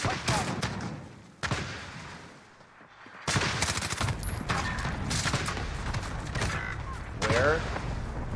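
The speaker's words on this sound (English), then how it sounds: "Enemy cluster strike incoming." Loud, close explosive blasts and rattling bursts from an enemy cluster strike in Modern Warfare hardcore Search and Destroy, arriving in clusters, with brief quieter gaps and faint voices at times.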